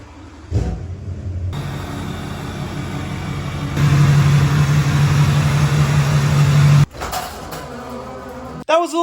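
A 2002–2010 GM Duramax diesel pickup engine starts up and idles close by, a steady low rumble that grows louder midway with a droning tone before cutting off near the end.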